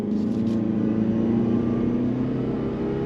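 A 2023 Toyota Prius Prime pulls away from a dead stop under throttle in sport mode, its steady engine hum droning loud and continuous with a low rising tone throughout, no voices over it.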